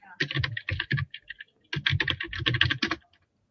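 Rapid clacking of computer keyboard keys in two bursts separated by a short pause, close and fairly clear, with no voices over it.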